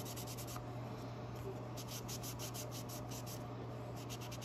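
Unicorn Spit stain is rubbed onto wood with a baby wipe, giving a faint, soft, repeated swishing scrape in short strokes along the grain, alone over a quiet steady hum.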